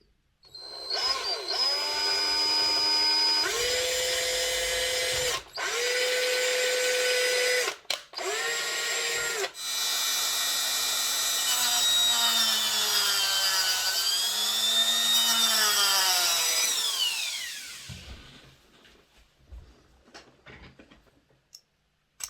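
A small high-pitched drill with a 1.6mm bit whines continuously while drilling a hole in a model railway coach, its pitch shifting as it bites, with a few brief stops before winding down and falling silent.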